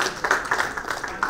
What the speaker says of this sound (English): So can we give them a huge round of applause to Dr. Deepa Aman?